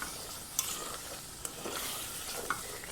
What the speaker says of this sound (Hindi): अच्छे से हम चीनी को जो ना इसमें मिक्स कर लेंगे।